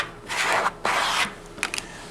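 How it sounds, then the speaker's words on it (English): A squeegee is drawn over vinyl lettering covered with masking tape, giving two long, close scraping rubs followed by a few short quick strokes. "Again, you can use your squeegee."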